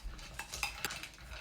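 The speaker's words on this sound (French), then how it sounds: "mélanger un petit peu encore avec une cuillère" A spoon stirs a cucumber and carrot smoothie in a container, giving a few light metallic clinks and scrapes over about a second and a half, fairly quiet and close with no voices.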